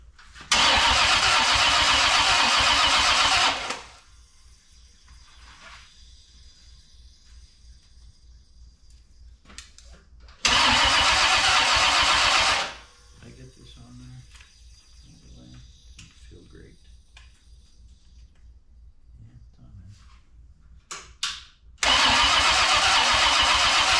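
V8 engine on a home-built go-kart cranked three times, each a loud several-second burst of starter churning that cuts off into quiet, with people speaking softly in the gaps.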